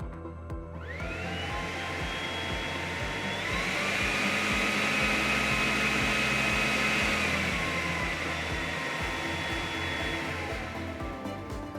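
A floor scrubber's loud vacuum motor hums steadily, its whine rising in pitch partway through and then dropping back before it winds down.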